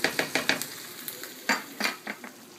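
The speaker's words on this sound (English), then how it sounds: "I'm mixing in my shrimp and my peppers and onions with these curries" Shrimp, peppers and onions stirred into curry in a pan, rhythmic scraping strokes in quick bursts over a soft sizzle, close and fairly loud, no voices.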